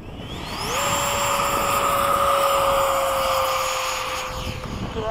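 An F-15 fighter jet on its takeoff roll, engines roaring loud and steady with a rising whine that holds and then slowly fades toward the end; no voices.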